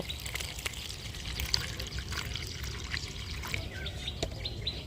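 Homemade liquid fertilizer is poured and strained, making a continuous trickling, splashing flow outdoors with birds chirping in the background.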